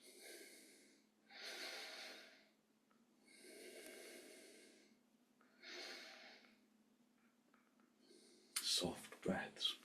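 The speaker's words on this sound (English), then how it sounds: "in through the nose and out through the nose." Soft, slow breaths in and out through the nose during a morning yoga session, each one long and airy, recorded close and quiet, with a few sharp clicks at the end.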